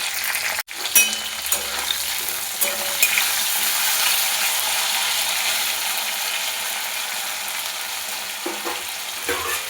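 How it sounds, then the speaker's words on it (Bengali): Okra frying in oil in a pan, a continuous crackling sizzle with occasional stirring clatters, close and steady, no talk. "এবার ওই তেলেই আমি ভেন্ডিগুলো ভেজে নেব।"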